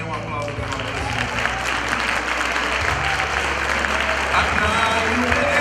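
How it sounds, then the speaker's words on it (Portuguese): Congregation at a women's church gathering applauding the Lord, sustained dense clapping and crowd noise over a low instrumental drone, with voices mixed in. "dê um aplauso para o Senhor"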